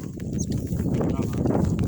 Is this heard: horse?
yes